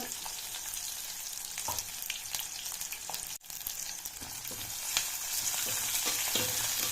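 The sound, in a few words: onion and cashews frying in oil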